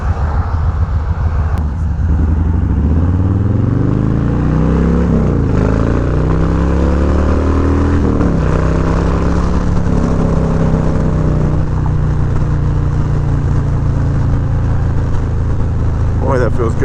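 A Harley-Davidson Low Rider S rumbles along the road, its low engine drone rising and falling through a few throttle changes, steady and close beneath heavy wind noise.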